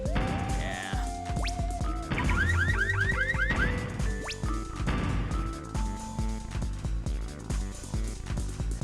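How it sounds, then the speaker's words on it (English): Electronic alarm tones in an N64 video game, rising and sweeping siren-like beeps repeating over layered game music and effects, loud and continuous. "these alarm sounds are rough"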